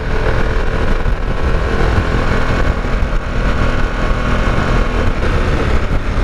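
Harley-Davidson Pan America motorcycle being ridden, its engine and road rush forming a loud, steady, continuous roar close by with no pauses.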